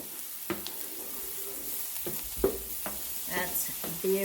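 Onions and sage sausage stuffing with mushrooms sizzle in a pan, a steady faint frying hiss broken by a few sharp stirring knocks and scrapes of a utensil.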